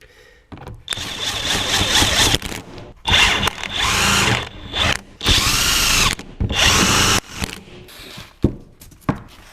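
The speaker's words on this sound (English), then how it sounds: "pop it on, all 4 bolts in, impact gun." Impact gun running bolts into a brake caliper on a Nissan Z32 300ZX, a series of five or six loud, close bursts of whirring hammering, each lasting about a second with short gaps, followed by a couple of sharp clunks.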